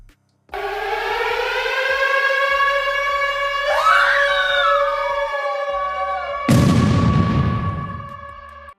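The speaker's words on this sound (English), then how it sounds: "sounds of carnage are heard outside. Sirens, screams, and explosions." A wailing siren rises and holds over a tense horror-film scene, with a wavering cry sliding through the middle before a heavy explosion booms in near the end and rumbles on beneath the continuing siren.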